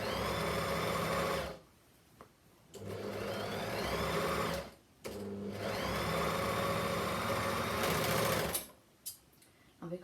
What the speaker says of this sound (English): sewing machine and you would probably use a zigzag stitch